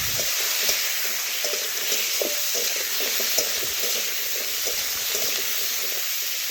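Pointed gourd (potol) fries with salt and cumin seeds in a pan, a steady close sizzle under repeated light scraping stirs of a spatula.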